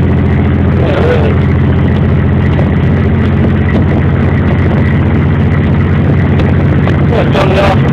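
A 1991 Chevy S-10 rat rod engine running on straight pipes, a loud, rough, continuous rumble close by with a rev swell near the start, while people talk over it.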